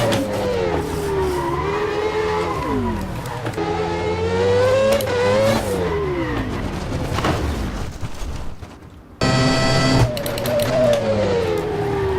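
A McLaren MP4/13 Formula One car lapping Indianapolis in rFactor 2, its high-pitched engine screaming loud and close, rising and falling through gear changes and corners, with a brief drop before it roars back up.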